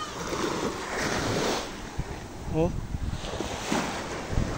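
Waves washing on a shore with gusty wind buffeting the microphone; a person briefly exclaims partway through.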